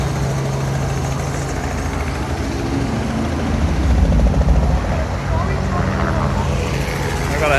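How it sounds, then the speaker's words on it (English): A helicopter takes off at an outdoor car show in Old Town Kissimmee, Florida, a continuous rumbling whir over crowd noise and nearby engines, with people talking throughout. "We've got a helicopter taking off."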